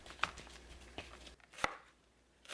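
Knife chopping onion on a board for beef bulgogi, a few sparse, sharp cuts spaced apart and heard close and alone.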